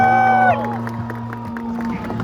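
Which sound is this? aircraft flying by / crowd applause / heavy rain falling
crowd applause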